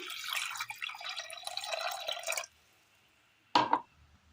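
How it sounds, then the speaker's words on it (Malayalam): Water pours steadily into a cooking pot of jackfruit seeds for a couple of seconds, then stops; after a pause, one short splash follows. "ഇതിലേക്ക് ഒരല്പം വെള്ളം ഒഴിച്ചു കൊടുക്കാം"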